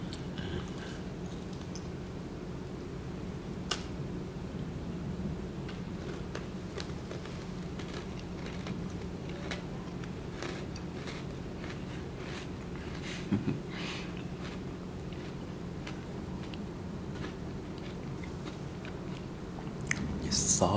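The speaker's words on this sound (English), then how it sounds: "So now I'm going to eat the cookie part by itself." Close-up bites and chewing on the plain cookie wafer of a Salted Caramel Brownie Oreo, a steady run of soft crunching and wet mouth sounds with a few sharper crackles and no talking.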